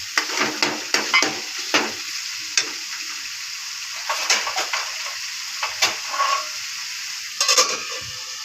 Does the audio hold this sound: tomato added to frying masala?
yes